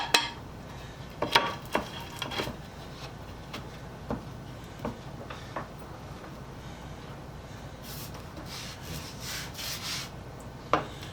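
A Defiance No. 3 hand plane's sole scrapes back and forth on abrasive paper, steady gritty rubbing strokes with a few sharper knocks as the metal is shifted, close and alone.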